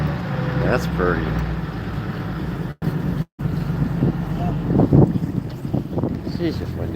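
Wind buffets a salmon gillnetting fishing boat, the F/V Nancy, off Alaska, a loud rumbling gusty roar against the microphone with brief dropouts and muffled voices underneath.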